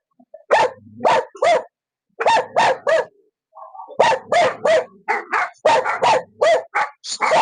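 A dog barks repeatedly in sharp bursts, close and loud, with short pauses between groups of barks.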